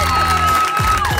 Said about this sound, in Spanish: ¡Un aplauso para Ricardo Osorio!